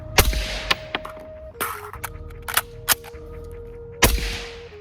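Rifle gunshots fired during a 1R1 drill, a few sharp loud cracks spaced unevenly across the stretch, each with a quick ringing decay, mixed with a steady electronic tone and a few lighter clicks.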